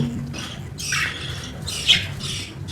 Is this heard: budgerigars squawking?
yes